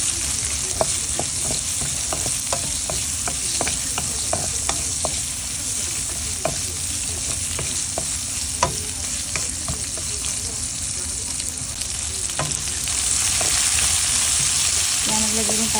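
Red and white onions sautéing with garlic in hot oil for pork menudo, a loud continuous sizzle close by with regular spoon clicks and scrapes against the pan, brightening near the end; nobody speaks.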